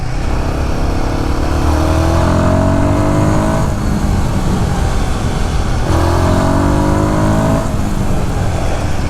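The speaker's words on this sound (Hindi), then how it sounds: "आप 45, 50, 60, 70 kmph पे भी आप मोटरसाइकिल को चला सकते" Royal Enfield Guerrilla Apex 450 motorcycle engine while riding at road speed, a steady loud drone with rising pitch sweeps under gear changes around 4 and 6 seconds, alone without talk.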